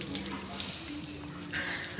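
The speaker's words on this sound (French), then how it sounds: "Alice, pourquoi tu prends ta douche?" A shower running at a hammam spa, a steady close hiss of spraying water with some splashing, and a voice speaking briefly over it.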